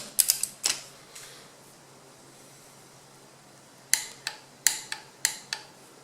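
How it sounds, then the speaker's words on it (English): Sharp ratcheting clicks from a torque wrench tightening connecting-rod bolts on a Dodge Viper V-10 engine build, a quick burst of clicks at the start, then quiet, then several spaced clicks near the end. "And these rod bolts are torqued to 45. Okay, so I'm going to go and torque this one."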